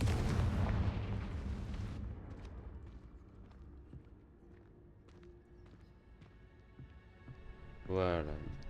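Confringo explosive spell cast in the video game Hogwarts Legacy, a loud burst with a rumbling impact at the start that fades into quiet ambience with scattered small sounds, then a brief tonal effect near the end; a voice speaks.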